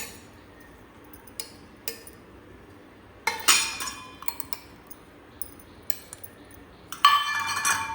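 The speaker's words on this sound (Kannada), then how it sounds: "ಚೆನ್ನಾಗಿ ಎಣ್ಣೆಯನ್ನು ಸ್ಪ್ರೆಡ್ ಮಾಡುವ." Oil is spread over a metal plate and saucers, with sporadic metallic clinks and scrapes, a few louder clattering bursts and quiet gaps between them.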